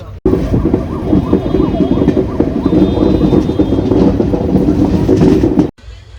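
A train pulling out of Muzaffarpur station, heard from inside with steady rumbling and rhythmic rail clatter, loud and continuous, with voices murmuring underneath before it cuts off abruptly.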